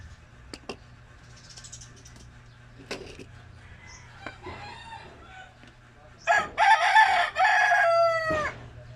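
A rooster crows loudly nearby in a long drawn-out call, preceded by scattered clucks and small sharp sounds in a quiet rural province setting.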